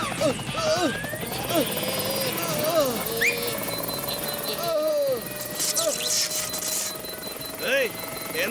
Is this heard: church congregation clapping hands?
no